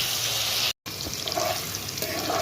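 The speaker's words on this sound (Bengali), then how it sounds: "চলো তাহলে আলুটা ভাজা নিয়ে যাই।" Potatoes fry in a hot pan with a steady, loud hiss of sizzling oil, broken by a split-second cut, then continuing with faint popping crackles.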